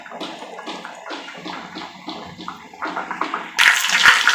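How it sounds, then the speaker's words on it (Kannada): Mustard seeds crackling in about a tablespoon of hot oil for a tempering, a dense run of small pops and spits at close range that grows louder and harsher toward the end, with no talking. "ಸಾಸಿವೆ ಸಿಡಿದಂಗೆ"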